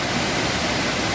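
Dyserth waterfall in North Wales, a 75-foot main fall, as a dense, constant roar of rushing water, loud and close with no variation over the short stretch.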